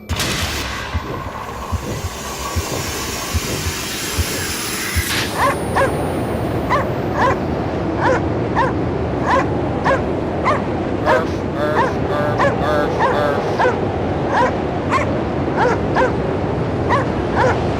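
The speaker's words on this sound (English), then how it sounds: "You really could have gotten more than 2 sound bites from that dog." A dog in the video game Cryostasis barks and whimpers in a run of short, evenly spaced yelps and whines that repeat over and over, loud and close, after a brief stretch of other noise at the start.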